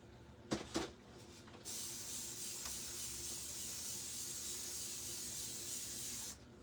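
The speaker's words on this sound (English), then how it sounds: "I need to spray this down or it is going to be all dried up in here." A spray can hisses steadily over a craft pumpkin for about five seconds at close range, preceded by a couple of short bursts or rattles.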